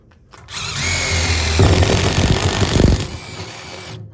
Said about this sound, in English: Now, I'm gonna take my drill.